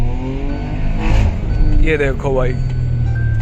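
A tuned Hyundai i20 N Line with a Velvotronic exhaust accelerates through paddle-shifted gears, its engine note rising and surging close by while someone talks over it.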